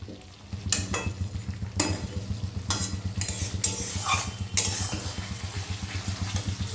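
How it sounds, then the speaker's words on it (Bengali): Paneer curry masala sautéed in a pan, a steady sizzle of frying running throughout with repeated scraping stirs of a spatula against the metal, close and moderately loud. "এবার আরও 2-3 মিনিট মতো এটাকে আমি কষে নেব"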